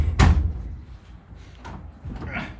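A car door on a 1969 Plymouth Fury, a big block 400 project car with seized parts, shuts with one loud close near the start, followed by quieter knocks and rustling.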